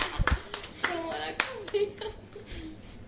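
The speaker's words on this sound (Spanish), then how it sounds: "Y los aplausos, por favor." A small group claps in short, uneven bursts at a quiz contest, with a voice and other speech breaking through between the claps.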